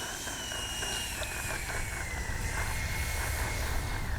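An FMS 80mm F-86 radio-controlled jet flies overhead with a steady, continuous ducted-fan whine that slowly drops in pitch as it passes, heard at a moderate distance over constant outdoor background noise.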